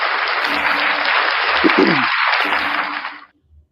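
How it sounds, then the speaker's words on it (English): A round of applause rises as a thick, steady roar of many hands. A brief low tone passes through the middle, and the clapping cuts off abruptly near the end, leaving near silence. "All right, round of applause for Van Valiant"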